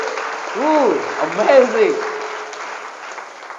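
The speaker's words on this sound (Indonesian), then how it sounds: "Tepuk tangan buat rekan kita." Audience applause for a fellow participant during a motivational coaching session at Al-Ma'arif Islamic boarding school in Serang. The clapping runs underneath while a voice calls out, loudest midway, then fades.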